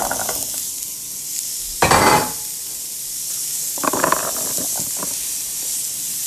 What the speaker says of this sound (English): Now we want to add our onions, our carrots